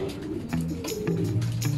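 Racing pigeon arriving at the loft coos in repeated low, throaty phrases close to the microphone, with faint rustling and background bird calls and no talk.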